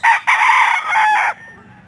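A seven-month-old young rooster (stag) gives a single loud crow close by, lasting just over a second before fading to quiet.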